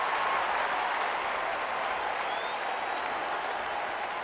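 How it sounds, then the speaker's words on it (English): A crowd applauds in a dense, steady roar of clapping that stays loud and even throughout, with no voices standing out. "let's just give me a round of applause"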